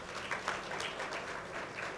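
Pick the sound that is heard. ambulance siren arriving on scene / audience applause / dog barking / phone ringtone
audience applause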